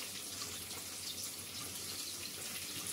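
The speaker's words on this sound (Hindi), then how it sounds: "इनमें थोड़ा थोड़ा पानी डाल के पतला सा इनका घोल बना लेंगे" Water is poured into two spoons of flour to make a thin slurry, giving a steady close trickle and splash throughout, with no voices.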